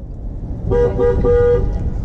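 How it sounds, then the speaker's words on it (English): A car horn honks in a few short, close blasts with brief gaps, then one longer sustained toot, loud against a low engine rumble. "He honked for Dale."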